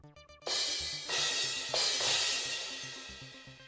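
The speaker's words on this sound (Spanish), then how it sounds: "Y estos son los platillos." Cymbals struck three times in succession, each a bright washy crash that rings out and slowly fades, with faint tapping just before.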